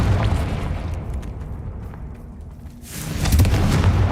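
A Confringo blasting spell explodes in Hogwarts Legacy: a loud, sustained booming rumble that fades into a lower roar before a second, brighter blast bursts out near the end.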